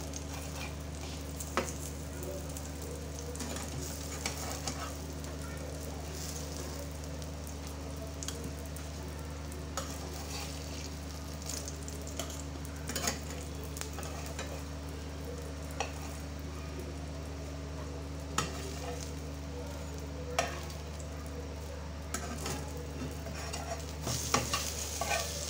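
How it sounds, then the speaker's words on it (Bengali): Eggplant slices fry in a pan, giving a continuous close sizzle with scattered clicks and scrapes from stirring, over a low steady hum. "বন্ধুরা বেগুন ভাজি হয়ে গেছে"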